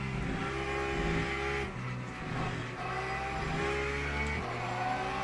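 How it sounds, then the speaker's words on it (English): LMP2 prototype race car engine in the sim racing game Le Mans Ultimate at Spa, a sustained high engine drone with shifting pitch and a brief dip midway, continuous with no talk. "that poor LMP2 goes flying off the track"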